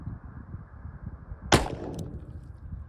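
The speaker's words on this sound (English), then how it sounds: "Now we're gonna do the 158 grain flat points." A single sharp report from a .357 firing a 158 grain flat point round, one loud close crack with a short decaying tail, standing alone above a steady low background hum.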